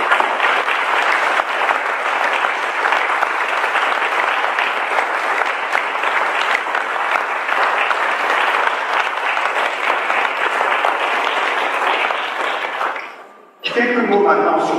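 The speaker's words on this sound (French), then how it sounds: "Je vous propose, pour rendre hommage à Philippe, non pas une minute de silence, mais une minute d'applaudissement." A crowd at a wine and gastronomy fair applauds steadily and loudly in tribute to a man named Philippe, the dense clapping sustained almost without pause before briefly dipping near the end.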